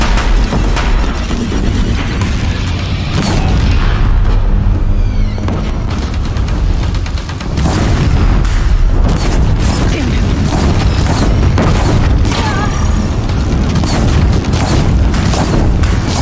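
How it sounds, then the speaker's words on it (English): Deathbringer machines in the video game Horizon Zero Dawn fire relentlessly on a bridge, making a dense, loud, continuous barrage of booms, blasts and mechanical crashes, with repeated sharp impacts throughout and no pause. "If the Deathbringers keep firing, this bridge will go."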